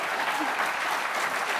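A studio audience at a late-night comedy talk show applauds and cheers steadily, a broad dense clatter of clapping at moderate level with no pauses across the short stretch.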